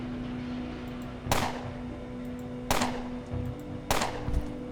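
Three sharp gunshots fired with hollow point bullets in the Underrail video game, evenly spaced about a second apart, loud and close, each with a quick decaying tail over a low background hum.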